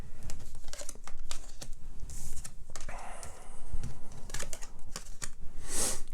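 A playing card being handled and laid down on a table during a tarot-style reading, giving dense papery rustles, flicks and soft slaps close by, with continuous crinkly handling noise and no speech.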